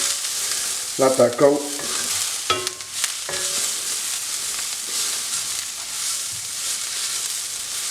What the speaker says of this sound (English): I'll just keep stirring this so the garlic doesn't burn.